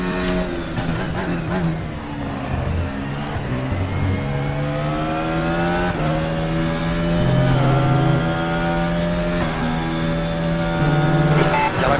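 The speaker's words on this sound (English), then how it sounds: "So enjoy the sounds of RaceRoom Racing Experience." A Formula E-style FRX22 race car laps Imola in the RaceRoom Racing Experience video game, its engine note climbing and dropping through repeated gear changes, loud and continuous from the driver's seat.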